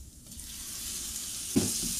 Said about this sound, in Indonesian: masukkan daging yang udah kita marinasi dengan kecap asin dan madu selama satu jam tadi